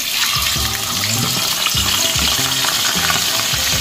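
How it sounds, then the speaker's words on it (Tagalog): Fish fries in hot oil, sizzling and crackling steadily throughout, with a few soft clinks of a utensil stirring in the pan. "Yan, magprito na tayo guys."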